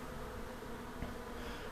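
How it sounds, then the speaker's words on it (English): Dense, steady buzz of many honeybees during a hive removal in Pasadena, Texas, a continuous close swarm drone with no talk. "I got almost 2 catch boxes full of bees"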